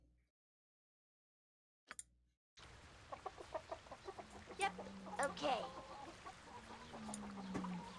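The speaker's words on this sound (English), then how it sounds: "I like chickens." Chickens cluck repeatedly in a Baldur's Gate 2: Enhanced Edition town. The sounds come in short, close bursts over game ambience after a near-silent start, and a voice speaks briefly.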